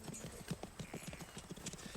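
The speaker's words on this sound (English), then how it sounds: "He's a good horse." Horse hooves clip-clop in a quick, steady rhythm, fairly faint, with a brief whinny-like tone in the background.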